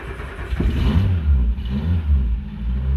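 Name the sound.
Renault Le Car engine revving at full throttle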